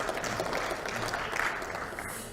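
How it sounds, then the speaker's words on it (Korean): Applause from party floor leaders at a Liberty Korea Party gathering, a steady, dense patter of clapping carrying on at even loudness for the whole stretch. "우리 원내대표단 여러분들 박수 한번 좀 크게 쳐주시기 바랍니다"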